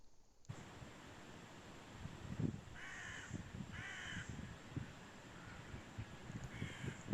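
A crow caws several times, a few harsh calls in quick succession at moderate distance over a low rustling outdoor background, with no one speaking.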